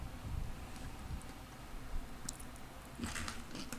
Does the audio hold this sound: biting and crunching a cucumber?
yes